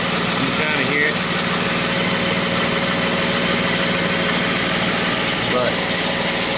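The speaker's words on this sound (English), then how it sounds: "Sounds like we got a little exhaust leak down here." A 2017 Jeep Wrangler with a small exhaust leak idles close by, a steady loud drone with a faint ticking edge, and brief bits of a voice near the start and end.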